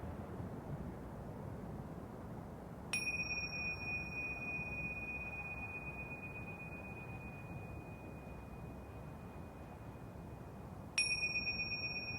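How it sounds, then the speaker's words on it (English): A meditation bell rings twice during a quiet breathwork session, each clear strike blooming into a long, pure sustained tone that hangs over soft background hiss until the next strike. "Returning back into the present moment with the sound of the bell."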